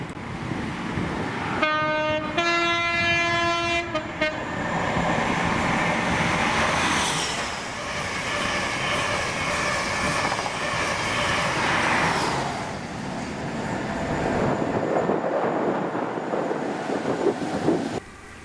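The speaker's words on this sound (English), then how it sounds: "Oban to Darlington with Intercity 43049 leading 43046" An Intercity HST with power cars 43049 leading 43046, running Oban to Darlington in Scotland, sounds a two-tone horn and then roars past loud and close, engines and wheels rumbling before fading away.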